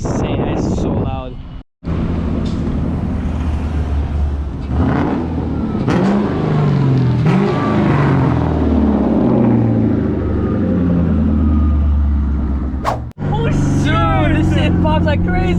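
Straight-piped 2001 Cobra revving hard and loud, the exhaust roaring and rising in pitch under excited voices, with wind buffeting the microphone and two sudden cuts.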